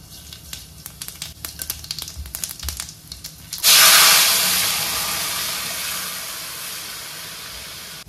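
Boiled lentils (dal) hit hot oil during tempering with a sudden loud sizzle midway. It settles into a steady hiss that slowly fades. Faint kitchen clatter comes before it.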